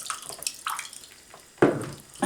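Water leaking and dripping from a steam engine, collected in a salt-water pot, comes as a few close, irregular splashes and trickles, with a louder gush near the end.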